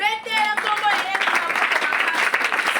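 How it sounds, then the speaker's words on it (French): A church congregation bursts into sustained applause and cheering for the name of Jesus, loud and dense, rising right after a voice in the opening half second and continuing steadily to the end. "Est-ce qu'on peut acclamer pour le nom de Jésus?"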